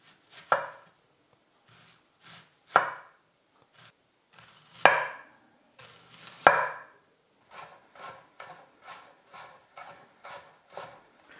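A knife chops fresh chives into small rings on a board for wraps. The cuts come as quiet, crisp taps, first spaced out and then a quick even run of strokes near the end, with no voice.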